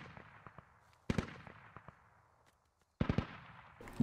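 Gunfire in a military video game as soldiers shoot over friendly troops to suppress a village, with sharp rapid bursts of shots rising abruptly, a quieter stretch of scattered distant reports between them, and loud close volleys again near the end.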